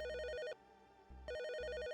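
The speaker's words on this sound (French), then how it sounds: "enfilait son manteau lorsque le téléphone sonna" A telephone rings with a repeating electronic bell trill, two loud bursts separated by a short pause, clear and close with nothing else over it.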